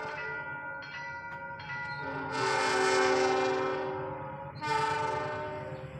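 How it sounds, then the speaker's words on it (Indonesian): A passenger train horn sounds in long, loud tonal blasts over the rumble of the Lodaya New Generation train going by, with a second blast near the end. "sedang melintas kereta Lodaya New Generation NG"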